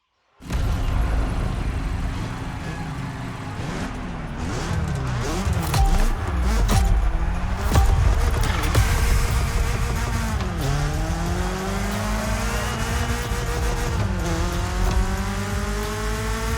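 A BMW M3 roars through The Crew Motorfest, its engine revving hard and loud through rising and falling gear sweeps, with tires squealing now and then across a continuous high-speed run.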